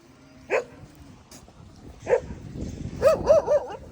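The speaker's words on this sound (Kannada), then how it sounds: "ನಮ್ಮ ಪಪ್ಪಿಗಳೆಲ್ಲ ನೋಡಿ ಚೋಟು ಎಷ್ಟು ಚಂದ ಜಿಗಿಯತ್ತದು" Puppies yip several times, a single sharp bark followed later by a quick burst of three higher yelps, with faint background noise.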